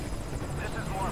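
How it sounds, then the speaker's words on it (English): An old, decrepit helicopter in the Metal Gear Solid V video game gives a steady rotor and engine drone for a brief moment, with a voice seeming to sit faintly over it. "This is my old decrepit helicopter."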